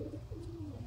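Pigeons kept by a fancier coo in a low, continuous rolling murmur, close by and steady throughout the short moment, with no voices.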